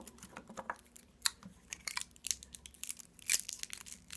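Plastic wrapping is peeled off a whitening toothpaste box in quiet, close crinkling and tearing bursts, with irregular rustles and sharp snaps and no talking.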